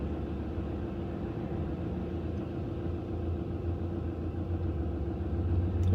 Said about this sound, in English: God, there's so much traffic.